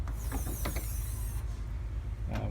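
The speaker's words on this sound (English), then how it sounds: "Just going to open this engine bay." Engine bay hatch on a Maverick 440 yacht being opened on the extended transom, a short run of creaking, clicking mechanical sounds over a steady low hum, ending with a brief scrape.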